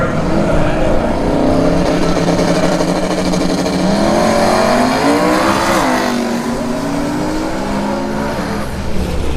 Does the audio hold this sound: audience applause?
no